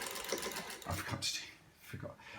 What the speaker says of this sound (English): Actually, sewing quite well for that.